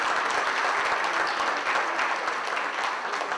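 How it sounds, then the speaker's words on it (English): Dense, steady applause from a seated audience at a mobile handset product launch event, loud and continuous from start to finish with no pauses. "I think that calls for a huge round of applause,"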